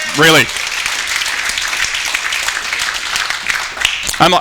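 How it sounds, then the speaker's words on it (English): A crowd at a Las Vegas dealers' convention gives a round of applause, with dense, loud clapping and cheering, and someone speaks briefly at the start and again at the end. "Round of applause for our dealers, a passionate group of innovators."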